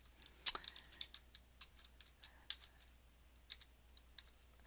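An answer is typed on a computer keyboard in a quiet room: a string of light, close key clicks at an uneven pace, with one sharper tap near the start.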